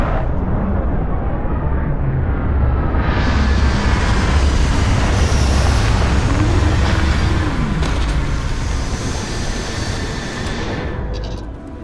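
A spaceship touching down in Starfield, heard as a loud, steady roar of engines and rushing wind that swells as the landing begins and fades slightly at the end, with no talk over it.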